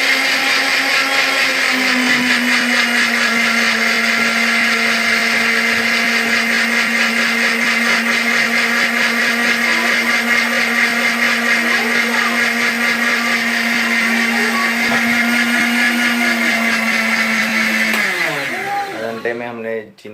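An electric blender mixes sugar into fruit cake batter with a loud, steady motor whine that runs at constant pitch, then winds down abruptly at the very end.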